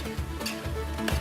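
Alligator meat is being stirred in a cooking pan along with other proteins, giving a continuous sizzle with soft scraping and clicking as the spoon moves through the food.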